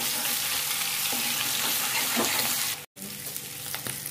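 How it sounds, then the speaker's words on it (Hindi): Boiled plain potatoes deep fry in hot oil for dum aloo, a dense, loud, bubbling sizzle heard up close that cuts out briefly near the end before resuming with occasional stirring clinks. "प्लेन आलू, बॉयल आलू को हम डीप फ्राई कर सकते हैं"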